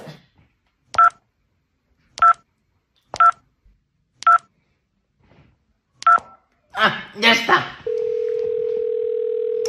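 A mobile phone dialing out, with six evenly spaced loud keypad tones, a burst of handling noise, then a steady dial tone. Someone speaks briefly between them.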